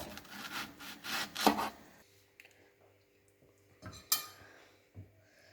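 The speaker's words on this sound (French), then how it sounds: "je coupe mon poireau en biseaux de 2 à 3 cm" A knife cuts a leek on a cutting board into slanted 2–3 cm pieces: a burst of close scraping, rubbing strokes and sharp board taps, then quieter pauses broken by a few isolated knocks.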